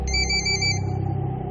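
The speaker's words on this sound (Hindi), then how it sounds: "पुष्कर का फोन बजा" Phone ringtone, a loud electronic ringing of bright repeated tones, sounding alone and steady for a moment before the upper notes drop away.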